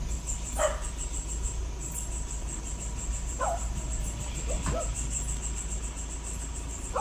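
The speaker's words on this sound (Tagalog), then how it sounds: "Daming aso dyan." A few scattered dog barks in the distance over a steady background of insects chirping.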